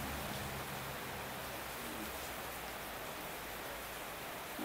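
Steady rain falls outdoors as a dense, even hiss with no breaks, moderately distant and with no voices.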